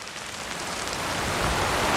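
Steady rain hisses down, growing a little heavier over the couple of seconds, a dense wash of drops with no voices.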